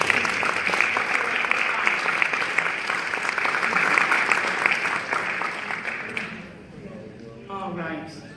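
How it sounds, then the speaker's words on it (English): A board of education meeting breaks into a round of applause that holds steady for about six seconds, then fades as a voice starts speaking. "Let's give another round of applause to our..."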